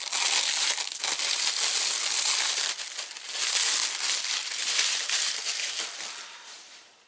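Plastic packaging crinkles and crackles continuously as a well-wrapped block of craft glue is unwrapped up close, steady rustling for several seconds before fading out at the end.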